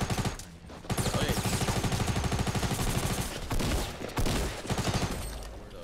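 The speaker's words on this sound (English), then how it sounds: "I just like held left click with my SMG" Rapid SMG fire in Fortnite during a duo match, a dense near burst of shots held almost continuously for several seconds with one brief break.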